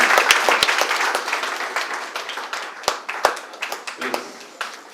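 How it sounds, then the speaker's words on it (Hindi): Audience applause fills a hotel hall as a guest is welcomed onto the stage, a dense wash of clapping with a few sharp louder claps standing out, steady for about five seconds with some voices mixed in. "जोरदार तालियों से स्वागत करेंगे मिस्टर किशन भाई।"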